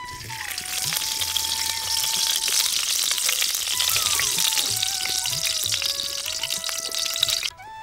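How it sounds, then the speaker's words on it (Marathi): Ghee sizzling in a hot wok, a steady close frying hiss that runs under a sustained tonal hum before stopping abruptly at the end. "आता कढई गरम झाली, त्याच्यात 2 चमचे तूप घालून घेऊ."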